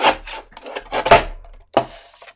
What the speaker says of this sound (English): pop it in your trimmer, and you're going to cut off a 1/2 inch from each side